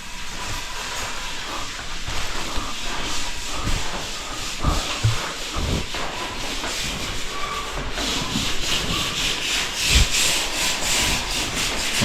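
Steady, rough rubbing of sandpaper over wood in repeated strokes, close by and continuous, with a hissy texture and no talking.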